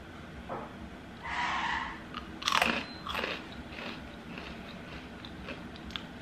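Crunchy churro-style cinnamon cereal, similar to Cinnamon Toast Crunch, eaten up close: several sharp bites and crunches, then softer chewing, with no talking.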